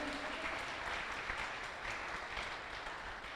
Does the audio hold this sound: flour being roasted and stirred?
no